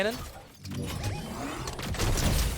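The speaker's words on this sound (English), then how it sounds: "so he communicates it to me to break the wall of the opponent so that he can take it instantly" A built wall breaks in the Fortnite video game, with crunchy shattering and smashing bursts amid gameplay effects, while players talk over it.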